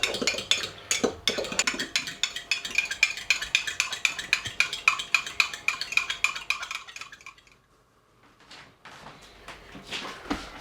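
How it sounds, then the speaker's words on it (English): A cracked egg whisked briskly in a bowl with a fork or whisk, producing fast rhythmic clinking strokes against the bowl for several seconds, then a pause and a few more scattered clinks, close and fairly quiet. "Then whisk it up."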